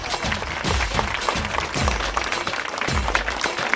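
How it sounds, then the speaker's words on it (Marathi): Audience applause at a commemorative birth-anniversary celebration and award ceremony, a dense steady clapping that stays loud and even throughout. "जोरदार टाळ्या होऊन जाऊ द्या"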